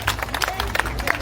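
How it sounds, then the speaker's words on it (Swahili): A crowd claps at an outdoor celebration in Thika, giving a scattered, uneven patter of hand claps with a voice and general hubbub mixed in. "Tupige makofi."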